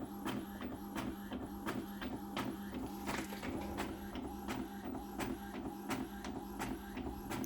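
A home photo printer running steadily, a rapid repeating mechanical ticking over a continuous motor hum, fairly quiet and unbroken with no voices.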